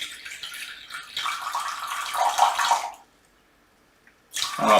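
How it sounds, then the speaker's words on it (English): About six ounces of drinking water pours steadily into a container for challah dough, a close, rushing splash lasting a few seconds, then a brief silence before the flow starts again. "I'm going to put about 6 ounces of water in here"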